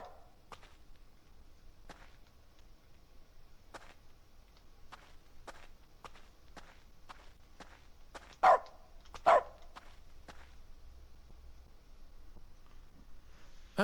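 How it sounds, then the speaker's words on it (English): Short dog barks in the video game The Stanley Parable, two loud close barks in quick succession amid soft in-game footsteps and clicks. "So just bark at the equipment,"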